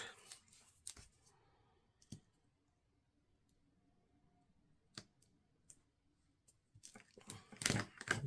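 Scissors snip through super sticky tape in a quiet craft setting, with a few sharp isolated clicks spaced out across the stretch and a denser burst of cutting and crinkling near the end.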